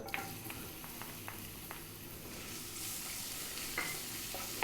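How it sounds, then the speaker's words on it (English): Garlic and ginger hit hot sunflower oil in a wok, giving a steady hiss of sizzling frying with a few scattered clinks and pops near the pan. "We're getting that nice and hot, and what we're going to do is we're going to drop in the garlic and the ginger."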